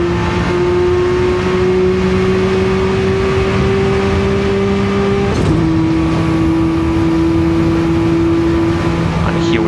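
A Porsche 956 race car engine from 1983 pulls hard on the Nürburgring straight, a loud sustained whine climbing steadily, briefly dropping at a gear change, then rising again.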